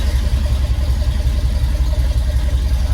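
A cold car's engine running just after a new exhaust was fitted without welding, a steady, loud, low idle rumble with an even pulse throughout and no talk.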